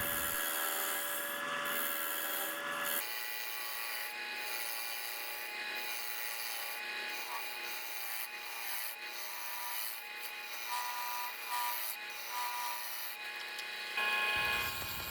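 A lathe tool hollows a spalted sweetgum bowl from the center outward, giving a steady, close scraping and rasping against the spinning wood with a constant motor whine, fairly loud and continuous with brief pauses.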